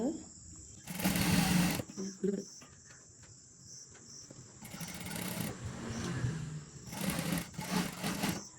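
A sewing machine stitches a frock in short, loud bursts of rapid whirring separated by pauses, set against a constant high insect-like drone.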